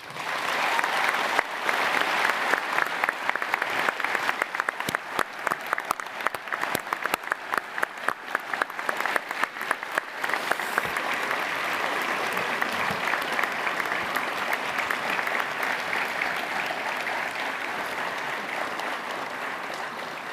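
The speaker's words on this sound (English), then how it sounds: "please give them a big round of applause" A large graduation ceremony audience at the Salford School of Arts, Media & Creative Technology claps in loud, sustained applause that holds steady and then slowly eases off.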